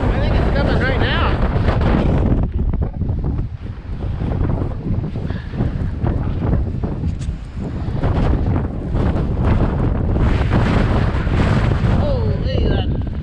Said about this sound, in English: that bad wind